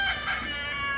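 Chickens clucking and crowing nearby, a short burst of fowl calls over a steady background hum.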